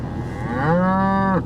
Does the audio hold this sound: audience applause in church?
no